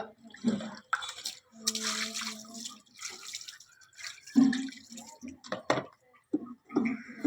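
Fish being washed and scrubbed by hand in water, with dripping and splashing that comes in short bursts between pauses, close by and moderately loud, alongside a voice talking.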